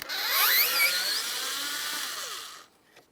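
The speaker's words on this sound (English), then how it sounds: "we have one Phillips head mounting screw to be removed" Cordless power drill spinning out a Phillips head mounting screw on a 2007-2014 Ford Edge 3.5L cooling fan, a close high whine rising in pitch then winding down and stopping, followed by a small click.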